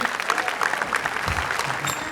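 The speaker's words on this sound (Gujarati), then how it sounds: "ટીમ માટે તાળીઓ" Studio audience applauding a comedy show team, a steady broadband clatter of clapping that fills the whole moment, with some voices mixed in.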